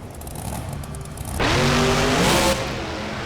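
Gravedigger monster truck engine in a video game, a steady motor drone that surges louder into a rising rev for about a second before easing back.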